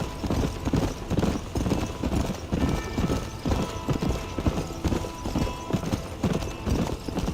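Horse hooves clip-clopping at a steady gallop in the Western video game Red Dead Redemption, a loud continuous rhythmic beat of strikes running throughout with no talking.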